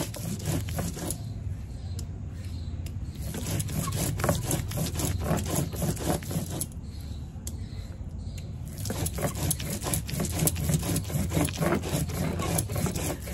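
Mustard seeds, poppy seeds and green chillies being ground into a paste on a stone, heard as steady rhythmic rubbing and scraping strokes close by for the whole stretch, with no voices.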